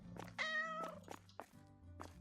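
A cat in the supermarket-management game Supermarket Together gives one clear, drawn-out meow close up, followed by soft thumps and short game sounds, with no voices.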